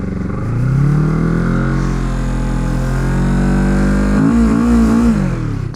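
A Kawasaki Z650 motorcycle engine revs hard under acceleration for small wheelies, rising in pitch, holding a loud steady drone, then briefly dropping and climbing again.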